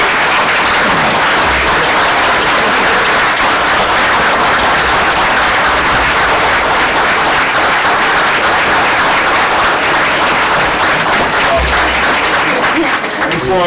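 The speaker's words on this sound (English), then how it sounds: "how about a round of applause for all our participants?" A room full of people at a Hawthorne, New Jersey Youth and Government meeting claps for the youth participants, a dense, steady wash of applause that holds loud for the whole stretch with a few sharper bursts.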